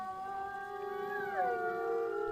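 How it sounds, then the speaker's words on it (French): A female wolf at the Bioparc howls in one long, clear, tonal call that holds steady and then slides downward in pitch, heard alone and fairly close. "Les loups, comme cette femelle Laska, hurlent rarement le jour, mais plus souvent la nuit."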